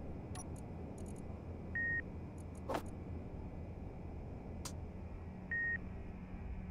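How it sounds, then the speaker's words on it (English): A timer beeping in the game Underground Alone: two short, clear electronic beeps several seconds apart, with faint clicks and a sharp snap between them over a quiet low hum. "I thought I heard a timer."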